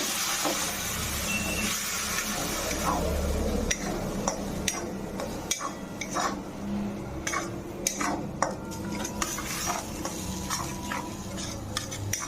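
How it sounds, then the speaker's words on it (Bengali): Onion paste and spices stir-fried in a pan for fish curry, a steady close sizzle broken by repeated spoon scrapes and clinks against the pan, with no talking. "দুটি পেঁয়াজ বাটা দিয়ে দিচ্ছি এটি আরও চার মিনিট আমি খুব ভালো করে কষাবো"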